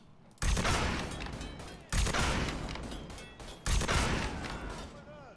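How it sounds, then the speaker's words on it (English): Sniper rifle fire in the open-world crime game Mafia 3: Definitive Edition, three loud, close shots about a second and a half apart, each with a long decaying echo, with a voice speaking faintly underneath. "This is a sniper! Where's he shooting me from?"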